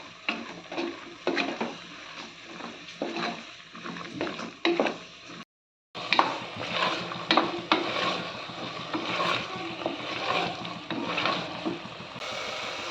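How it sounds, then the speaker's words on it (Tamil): Steady scraping and clattering of a spoon stirring mushroom biryani in a pot, with a low sizzle underneath and a brief pause partway through. "நல்லா கிளறி கொடுத்துக்கலாம்"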